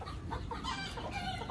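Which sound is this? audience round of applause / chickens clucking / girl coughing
chickens clucking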